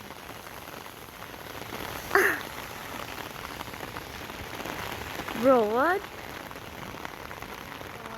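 Light, slow rain falls outdoors in New Jersey, a soft continuous patter on surfaces, with two short bursts of voices breaking through it.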